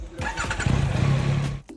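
A Yamaha EF2000IS inverter generator engine starts up and runs with a loud, steady mid-pitched drone and a pulsing beat, then cuts off abruptly near the end.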